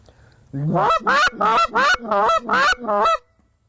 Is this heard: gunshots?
no